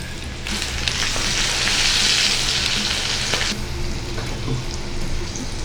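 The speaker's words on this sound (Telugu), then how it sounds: "ఇప్పుడు వీటిని మనం వేడి ఆయిల్లో వేసుకోవాలి." Okra pieces coated in batter deep-frying in hot oil over a medium flame, a loud, steady sizzle and crackle close by that swells and then eases, with no talk.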